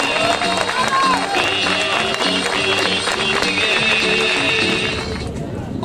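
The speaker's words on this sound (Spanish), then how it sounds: "los aplausos para Miguel" A crowd applauds a mayoral pre-candidate at the opening of his campaign office, the clapping mixed with cheering, chanting voices and busy hall noise for several seconds.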